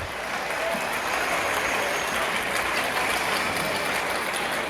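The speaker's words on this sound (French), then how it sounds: "On peut les applaudir déjà très très fort" A theatre audience at a stage hypnosis show applauds the participants, the clapping dense, steady and loud throughout with no talk over it.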